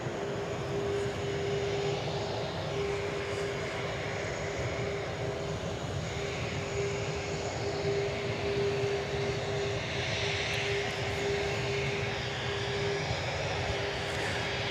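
A Boeing 787 Dreamliner jet at the DFW airport runway gives off a steady, continuous engine roar that holds at an even level throughout, heard from a distance with no talking.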